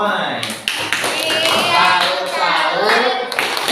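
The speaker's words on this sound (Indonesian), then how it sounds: "berikan tepuk tangan untuk kelompok Somai" Clapping from a class audience for a student group during an Islamic jurisprudence lesson, loud and close with uneven hand claps filling the room while voices talk over it.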